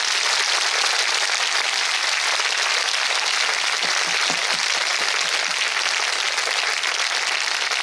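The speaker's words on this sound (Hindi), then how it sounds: "मैं चाहता हूं वो लोग परमेश्वर के लिए ताली बजाएंगे" A large audience at a Hindi Christian church gathering claps for God, a loud, dense, continuous applause filling the room without pause.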